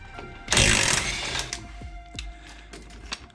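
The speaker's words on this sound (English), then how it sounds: "We're just gonna take an impact and shoot that right on off." An impact wrench on a 1993-1997 Ford Ranger removes the 18 mm lower shock mount bolt, with a loud half-second burst of hammering followed by metallic clicks and small clanks of the loosened parts.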